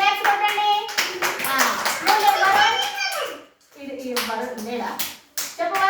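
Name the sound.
children clapping hands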